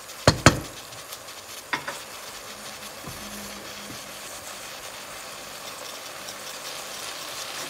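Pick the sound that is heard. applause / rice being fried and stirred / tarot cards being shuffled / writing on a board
rice being fried and stirred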